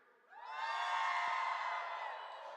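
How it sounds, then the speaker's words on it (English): An audience at a drag show breaks into loud cheering and whooping, the many voices swelling quickly and holding steady before easing slightly at the end. "Rule number 1, cheering."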